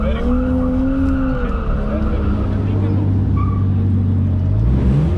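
A drift car slides with sustained squealing tires and a droning engine, loud and continuous, during a drifting practice session held in a parking lot in Pakistan.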